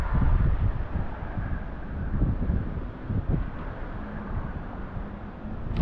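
Outdoor wind buffets the microphone as a steady, close, low roar with gusty swells, during a stormy night with lightning and a sharp swing from summer to winter weather.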